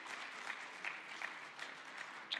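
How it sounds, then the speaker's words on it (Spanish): An audience at a conference on Mexico's pension system applauds a speaker, a steady patter of many hands clapping together for a couple of seconds. "yo quiero pedirles nuevamente el aplauso para nuestro ponente"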